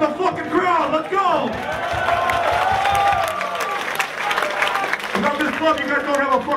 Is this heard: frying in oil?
no